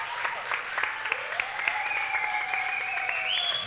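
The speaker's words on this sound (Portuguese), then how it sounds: "Palmas para fechar." An audience at a Flup 2016 literary festival tent in Brazil claps steadily, dense and continuous applause filling the space, with a faint voice or tone sliding through underneath.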